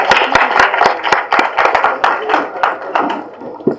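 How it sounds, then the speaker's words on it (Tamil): Audience clapping at a Tamil film audio and trailer launch event, with sharp, fairly loud hand claps in an uneven rhythm continuing throughout, near and distinct. "நல்லா கைத்தட்டுங்க."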